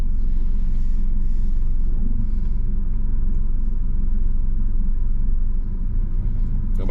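A car reversing slowly during a driving road test in Florida, its low engine rumble steady and close throughout, with no talk.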